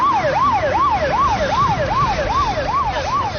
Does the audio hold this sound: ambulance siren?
yes